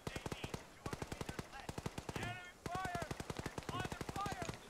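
Rapid automatic gunfire in the military sandbox game Arma with the Antistasi mode, sounding as a continuous rhythmic stream of close shots with brief gaps and muffled voices or radio chatter underneath.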